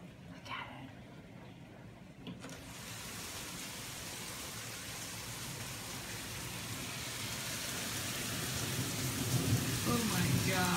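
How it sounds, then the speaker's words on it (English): Heavy rain pours steadily outdoors as a broad hiss that grows louder over time, with low thunder rumbling underneath and a brief quiet voice near the start. "Because she wanted to see the rain."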